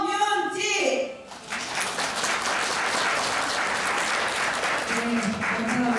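Sustained applause from an audience at a 2024 March 1st Independence Movement Day ceremony, honoring six readers of the declaration, rising after a short spoken or sung passage and continuing steadily and fairly loud.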